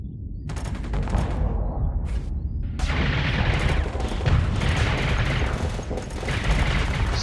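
Starsector space combat weapons fire: a sustained, loud barrage of rapid shots and booming blasts, starting sparse and building into a dense, continuous roar of fire with heavy low rumble.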